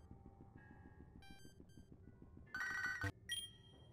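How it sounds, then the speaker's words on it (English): Electronic ringtone from a phone in a Pokemon video game: short synthetic beeping tones repeat over a steady rhythmic game soundtrack, with a louder burst of ringing near the end and no talking. "Oh, the phone's ringing again."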